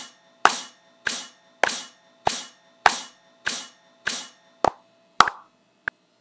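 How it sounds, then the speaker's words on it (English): Metronome count-in clicks in Reaper before a recording starts: sharp, evenly spaced ticks, about nine in a row at a steady tempo, loud and close with nothing else playing. "I've got my metronome on, so I know I'm going to hear the metronome"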